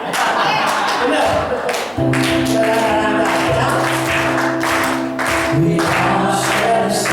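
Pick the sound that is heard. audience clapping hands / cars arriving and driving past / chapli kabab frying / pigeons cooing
audience clapping hands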